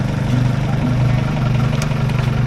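Motorcycle engines on a road trip through Makwanpur, Nepal, a steady, loud, close droning rumble with a constant low throb and no break over a few seconds.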